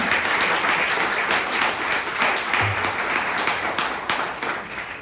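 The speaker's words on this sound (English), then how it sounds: "can we give a round of applause for all the rest of the speakers?" An audience applauds speakers at a February 2024 community storytelling event on Black families in Jersey, steady continuous clapping at moderate level, tapering toward the end.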